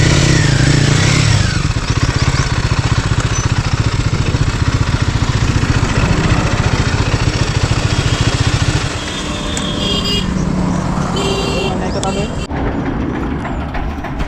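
A Royal Enfield Himalayan motorcycle engine runs loud and steady as it is ridden inside, then drops to a lower, quieter idle-like rumble partway through.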